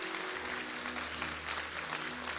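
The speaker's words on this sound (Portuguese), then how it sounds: "Você pode dar um aplauso ao Senhor?" Church congregation applause, a faint, even wash of clapping lasting a couple of seconds over a low steady hum.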